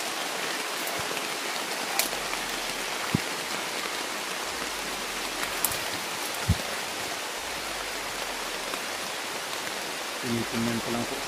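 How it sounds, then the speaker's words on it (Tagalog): Steady, dense rain hiss fills the whole stretch, with a few scattered sharp drips and knocks, and a faint low murmur near the end. "Kalakas ng ulan"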